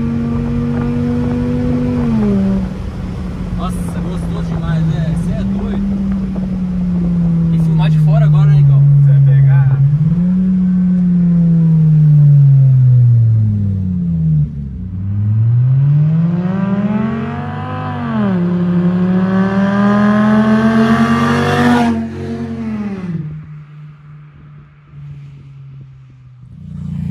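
A Volkswagen Jetta with a straight-pipe exhaust revs loudly from close by, its engine note rising and falling in repeated throttle blips and long pulls, with people talking over it.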